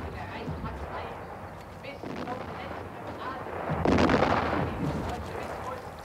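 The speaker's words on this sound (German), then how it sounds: "Jetzt sind die Schüsse schon so nah, dass man Angst haben möchte." Gunfire and artillery shots in a war film rumble and thud at a distance, with a louder burst near the middle, while voices talk underneath.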